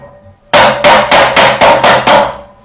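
Hand hammer blows shape 1.5 mm steel sheet, seven sharp metallic strikes in a steady rhythm, loud and close, each ringing briefly before the next.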